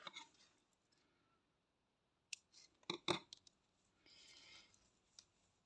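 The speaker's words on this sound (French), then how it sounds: "On va couper." Scissors cut crochet yarn in a quiet room, making a few short, crisp snips and clicks separated by pauses, with light handling rustle at the start and end.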